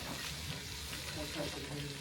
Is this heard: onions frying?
yes